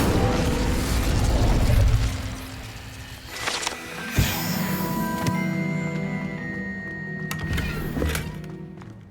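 The Incendio fire spell cast in Hogwarts Legacy, a burst of whooshing flame followed by sharp pops and mechanical thunks, a few distinct impacts spread over several seconds at moderate loudness.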